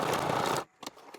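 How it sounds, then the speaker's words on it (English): A sewing machine stitching down the gusset of a double-zipper diaper pouch, a fast close whirring run that stops abruptly after about half a second, followed by a few faint handling taps. "we're just going to sew the gusset down right here in the middle"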